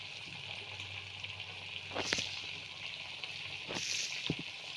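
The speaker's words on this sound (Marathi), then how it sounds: "ह्याला आता एका साईडने एकदम कडक फ्राय करून घ्यायचं आहे." Bangda mackerel frying hard on one side in a pan gives a steady, close sizzle and hiss, with a couple of soft clatters and spatters breaking through near the middle and end.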